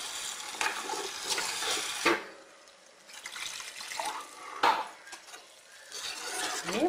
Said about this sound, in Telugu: కొద్దిగా వాటర్ పోసి